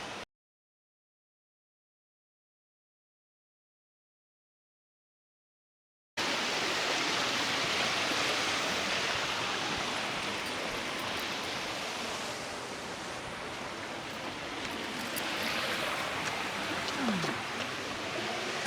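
Steady broadband rush of stream water flowing through jungle on a trek near Badlapur begins abruptly after about six seconds of silence, then continues loud and even to the end with no voices.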